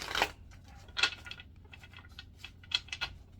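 Tarot cards are shuffled by hand in a quiet room, making several short, crisp flicking and slapping bursts at irregular intervals, close and fairly soft, with no voices.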